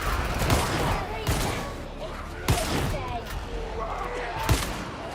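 Enemy gunfire in a video game: a dense, continuous fusillade of shots with several sharper, heavier impacts standing out at irregular intervals, loud and close throughout.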